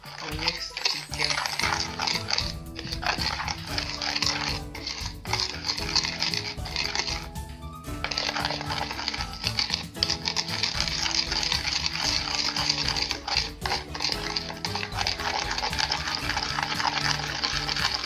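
A spoon stirring a homemade lip-care mixture in a cup, giving a dense, continuous run of quick scraping and clinking strokes that carries on almost nonstop, with only a brief pause partway through.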